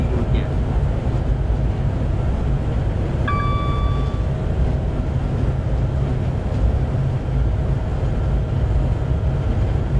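A tilting passenger train in Train Simulator 2017 on the West Coast Main Line rounds a curve at about 125 mph, producing a steady, loud rumbling roar of wheels and rails throughout with a brief horn-like tone partway through.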